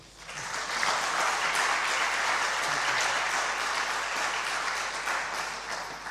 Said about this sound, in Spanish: les pedimos un aplauso de bienvenida